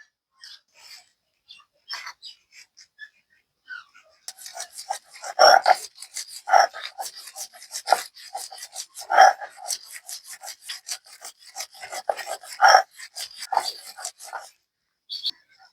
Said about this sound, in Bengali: এখন আমি নারকেল কোড়া ও কাঁচামরিচ একসঙ্গে বেটে নেবো